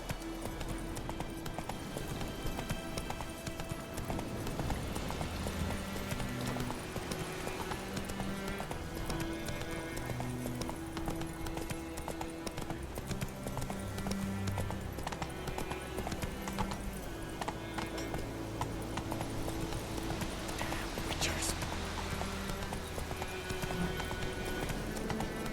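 Roach, a horse in the video game Witcher 3, clip-clops steadily over ground, its hoofbeats running throughout amid game music and ambience, with an occasional whinny.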